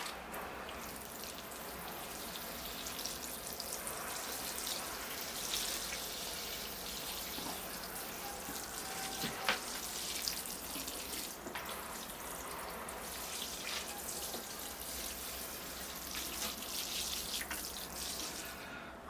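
Water poured over a freshly repotted thuja bonsai, a steady broadband splashing and trickling with a few sharper drips, continuous and moderately close for the whole stretch, with no talk.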